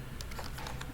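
Rapid typing on a computer keyboard while entering text in MS Word, a quick run of close, crisp key clicks with no talking.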